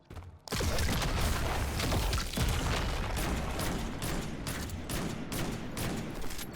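Heavy, sustained weapon fire from Destiny 2 booms almost continuously after a short quiet opening, with repeated loud blasts and mechanical clatter layered densely through the rest.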